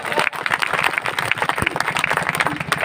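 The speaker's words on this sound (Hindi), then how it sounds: "इनके साहस के लिए एक बार जोरदार ताली बजा लो" A crowd at a village poetry recital claps loudly and continuously in a dense, uneven patter of many hands, heard up close.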